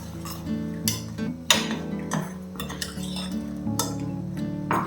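Raw papaya curry gets stirred in a metal pot, giving close, repeated scraping clinks and knocks at an uneven rhythm, with no voices.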